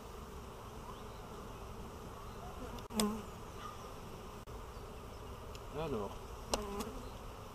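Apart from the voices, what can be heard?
honeybees buzzing at a hive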